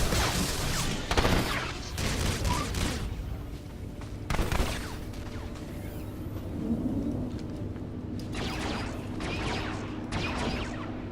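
Enormous blaster cannons firing at defense batteries in Star Wars: The Old Republic, a series of heavy booming blasts with rumbling tails, loud and near, spaced irregularly with a sustained roar between shots, no talk.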